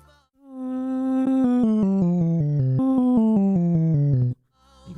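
A Boss RC-505 MKII looper's Auto Riff effect turns a held tone into an automated melodic pattern, a clean synthetic voice stepping through quick rhythmic notes for about four seconds before stopping abruptly.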